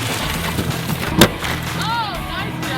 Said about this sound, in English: We're testing out the glass breaker.